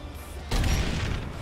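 A burst of gunfire thumps against a wall in PlanetSide 2, a sudden loud onset of dull booming impacts that continues densely after a quiet lead-in.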